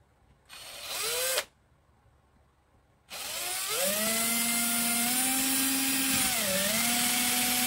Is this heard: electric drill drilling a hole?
yes